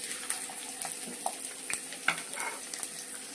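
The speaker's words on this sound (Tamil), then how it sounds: "எண்ணெய் நல்லா காஞ்சிருச்சுங்க. இப்போ வெங்காயத்தை போட்டுக்கலாம்." Onions sizzle in hot sesame oil, a soft continuous crackle with small spatters and occasional light stirring taps, no voices over it.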